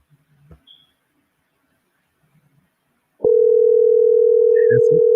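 A steady telephone ringback tone sounds loudly while an outgoing call is placed back to a radio show caller, continuing unbroken after a few seconds of near silence with faint background noise.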